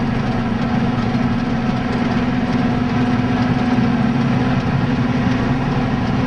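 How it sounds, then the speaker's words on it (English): Tractors arriving at a car park for a protest, a loud, steady low engine rumble with a constant drone, close and continuous, with no voices. "They're coming in with tractors."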